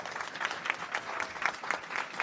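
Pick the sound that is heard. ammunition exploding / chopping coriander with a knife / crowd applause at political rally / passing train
crowd applause at political rally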